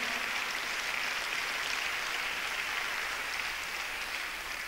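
Sustained applause from a concert audience at a tribute concert in Armenia, steady dense clapping that fills the hall without a break.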